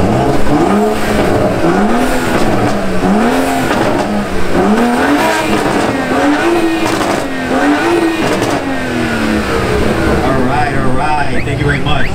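A BMW with an Atlas downpipe and AWE midpipe and rear exhaust revs loudly and repeatedly at a car meet in Melbourne, the engine rising and falling in close, sustained blips with the crowd faintly audible underneath.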